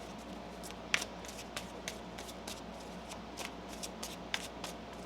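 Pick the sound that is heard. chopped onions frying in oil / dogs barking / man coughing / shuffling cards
shuffling cards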